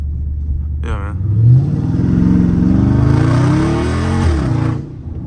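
A Dodge Charger Scat Pack with traction control off revs hard while its tires spin, a loud, close, sustained engine roar rising and falling over about four seconds, with a voice speaking over it.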